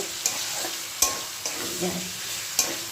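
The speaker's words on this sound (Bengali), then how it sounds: "সবজিগুলি এর মধ্যে দিয়ে দেব" Vegetables hit hot oil in a pan for a Bengali kohlrabi and potato curry, giving a steady close sizzle punctuated by several sharp clatters of stirring and spatula knocks.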